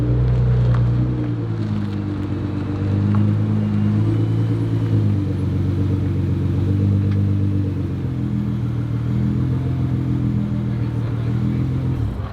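A Nissan GT-R engine warming up, a steady deep rumbling idle held loud and close throughout with no talk.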